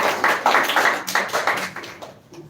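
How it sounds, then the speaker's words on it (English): An audience at a spoken English speech competition claps for the next speaker, a brief ragged burst of handclaps that thins out and fades near the end. "Clap for her."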